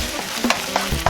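An egg is stirred and chopped in a hot pan, the spatula scraping in a few quick strokes over a continuous close sizzle of frying.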